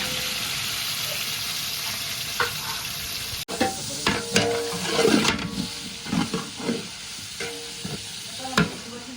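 Sliced onions frying in hot oil with cinnamon, cloves, cardamom and green chillies: a steady close sizzle with repeated scraping stir strokes in an uneven rhythm, louder after the onions drop into the pan.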